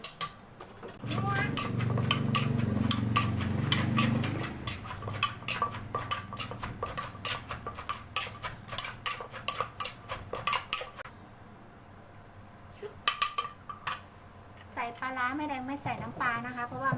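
Thai cucumber salad being prepared with chili: repeated sharp clatters of cutting and pounding in a kitchen, with someone talking over much of it and a louder rumbling stretch near the start.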